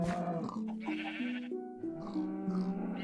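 A Minecraft sheep bleats repeatedly, wavering drawn-out calls overlapping one another in a continuous stream, fairly close and clear with no talking.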